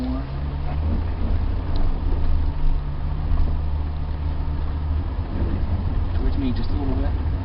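A Land Rover engine drones low and steady while driving slowly on a driving experience course, rising slightly as throttle is added, with an instructor's voice talking over the rumble.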